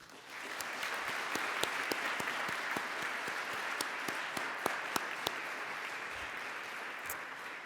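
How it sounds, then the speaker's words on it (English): Steady applause from an audience at a college liberal arts and sciences commencement ceremony, a dense even wash of clapping with sharper individual claps standing out, continuing throughout without speech. "Please join me with a round of applause to thank all of the men and women who have served our country."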